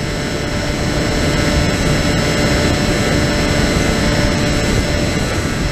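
Electric motor of a Bixler RC plane in FPV flight, a loud, steady high-pitched whine with constant broadband wind rush throughout, close and unbroken with no talking.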